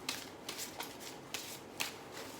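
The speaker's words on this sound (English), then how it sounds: "I'm just going to pick up a couple of angel cards as well" A deck of angel cards is shuffled by hand, giving several crisp riffling bursts in an uneven rhythm, close and moderately quiet, with no talking.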